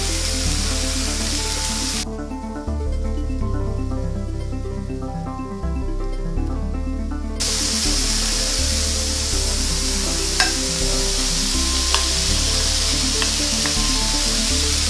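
Chicken and mushrooms stir-frying in a pan give a steady, close sizzle with scraping and stirring noises, and the sound stays continuous and loud throughout with no talk.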